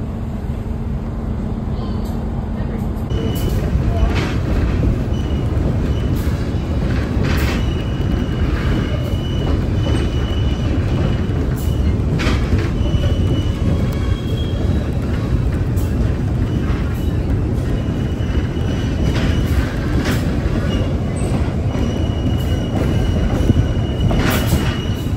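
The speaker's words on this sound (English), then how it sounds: "This is a 30-minute train ride from Stearns," A passenger train rides the Big South Fork Railway out of Stearns, Kentucky, bound for a coal town. A steady, loud rolling rumble carries on throughout, with intermittent high wheel squeal on top.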